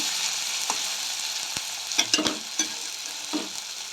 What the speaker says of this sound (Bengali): পেঁয়াজ ভাজা হয়ে গেছে, আলু, কাঁচা লঙ্কা দিয়ে দিলাম। এটা একটু লাল লাল করে ভাজবো।